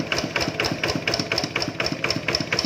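A small used engine idles at slow rpm with a steady, even mechanical chugging and regular ticking, close and unbroken throughout.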